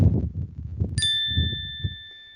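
A bright notification bell dings once, ringing out clearly and decaying slowly over soft background music.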